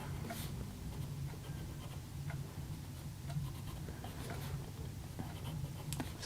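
Pencil scratching steadily across a page of a colouring book, a continuous soft dry rasp with small stroke-by-stroke variations, close and quiet, with no talking.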